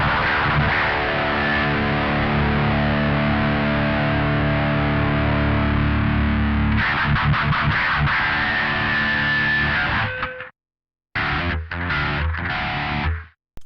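Electric guitar through a free amp simulator plugin voiced like a Peavey XXX, loud saturated high-gain chords ringing then chugging palm-muted riffs, ending with short stabs and a brief silence.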